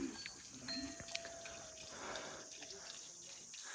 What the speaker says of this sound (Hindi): यहाँ गाय है ज़्यादातर